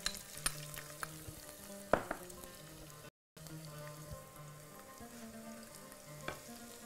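Minced onion fries in a pan with a quiet, steady sizzle, punctuated by occasional sharp clinks and scrapes of stirring, with a brief dropout in the middle.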